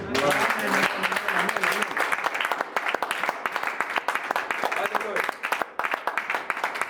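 A church congregation at a French-language service bursts into sustained, loud applause, with dense rapid clapping filling the room while a voice carries on over it.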